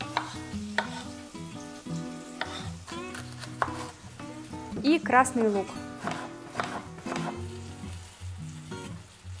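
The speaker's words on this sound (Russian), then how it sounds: "У меня пока что жарится вторая порция рыбы" Fish frying in a pan with a steady sizzle underneath, alongside background music and someone talking over it.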